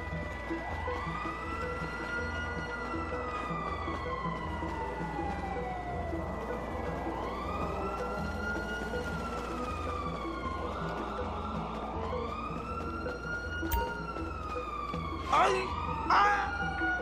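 Emergency vehicle sirens in Grand Theft Auto 5 wail continuously in rising and falling sweeps, layered over steady low engine rumble, with brief sharp bursts near the end.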